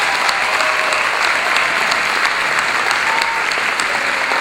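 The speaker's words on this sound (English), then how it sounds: "Please join me in a round of applause for our second." A graduation ceremony audience applauds in a dense, steady wash of clapping that holds evenly loud throughout, with no voices over it.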